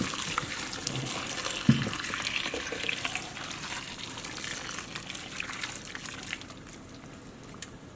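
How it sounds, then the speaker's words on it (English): Boiling hot water is poured over drained noodles, a steady soft gushing splash that runs for several seconds at a low, even level. "get boiling hot water and just douse it over the noodles real quick"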